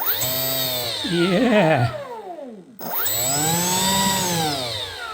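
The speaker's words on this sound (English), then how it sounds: "next let's see if the motor is going to spin" An electric motor on an RC Northrop F-5E Tiger II model plane whines up to speed, winds down to a stop, then spins up again, a loud rising and falling electric whir heard up close, with a brief spoken word.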